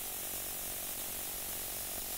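A spray bottle of window cleaner in a window-cleaning video game gives a steady, soft hiss of spray that fills the short moment alone, faint and even with no voices.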